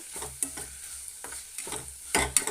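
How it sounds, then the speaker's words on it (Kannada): Ivy gourd and chana dal frying and being stirred on a tava, with a low steady sizzle broken by several quick scraping stirs, close up and with no talk. "ಚೆನ್ನಾಗಿ ತವಾನಲ್ಲಿ ಈ ಥರ ಸ್ವಲ್ಪ ಬ್ರೌನ್ ಕಲರು ಬರೋವರೆಗೂ ನಾನು ಇದನ್ನು ಇದು ಚೆನ್ನಾಗಿ ಹುರ್ಕೊಂಡಿದ್ದೆ"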